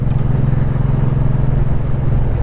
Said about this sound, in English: it's got a nice growl to it